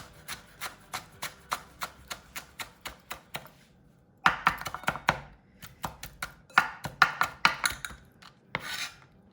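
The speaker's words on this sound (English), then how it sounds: "finely chop a handful of the coriander leaves" A knife finely chopping coriander leaves on a board in a home kitchen, with quick, even strikes in two bursts separated by a short pause, each burst a steady run of close, crisp taps.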